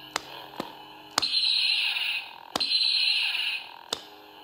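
A Star Wars Force FX lightsaber replica ignites, sharp clicks followed by a bright, sustained electronic hum that rises and holds, repeating in two bursts with separate clicks between, close and moderately loud.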